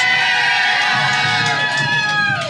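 A large crowd at a women's wrestling show in Oklahoma City cheers and shouts for a wrestler's entrance, with steady loud cheering throughout and a few higher whoops rising above the roar.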